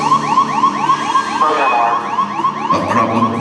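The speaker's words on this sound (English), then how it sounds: "a problem with the onboard computer. The 1202 alarm." A spacecraft onboard computer's 1202 alarm, presented in a Kennedy Space Center exhibit, sounds as a loud string of rapid, repeating rising electronic chirps pulsing steadily throughout.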